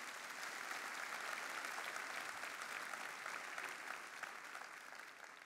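An audience at a large business seminar applauds for a speaker's partner, a dense, even wash of many hands clapping that holds steady and fades slightly at the end.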